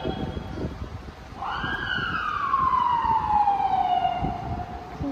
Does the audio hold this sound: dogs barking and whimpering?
no